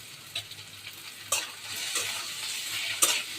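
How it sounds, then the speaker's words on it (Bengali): Okra fries in a hot pan while it is stirred. A soft, steady sizzle runs underneath, broken by a few scraping strokes of the spoon, close by and with no voices. "ঢেঁড়স ভাজি করছি, ঢেঁড়সগুলো দিয়ে দিলাম।"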